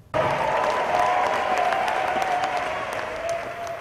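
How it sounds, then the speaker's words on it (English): Hundreds of people applaud at an anti-voter-suppression gathering inside the First United Methodist Church, a dense, continuous roar of clapping that starts abruptly and fades slightly toward the end. "that's the sound of hundreds of people gathered at the First United Methodist Church tonight."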